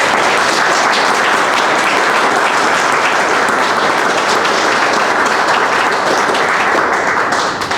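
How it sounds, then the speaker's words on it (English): An awards ceremony audience claps for sponsors, a dense, loud, sustained wash of applause that holds steady for several seconds before easing slightly at the end. "So if you can give a big round of applause for our sponsors, please."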